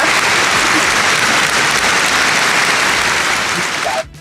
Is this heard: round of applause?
yes